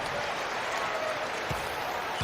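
Arena crowd noise from the NBA 2K16 basketball video game, a steady, broad roar with scattered cheering and applause, with commentary voices faintly mixed in, filling the Quicken Loans Arena before a Cavaliers home game against Utah.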